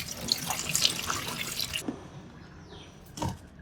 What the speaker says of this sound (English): Okay, so now I'm washing the chilies.